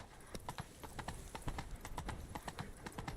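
Hoofbeats of the horse Roach galloping in The Witcher 3: Wild Hunt, Blood & Wine, a steady rapid clip-clop, close and fairly loud, with game ambience underneath and no talk.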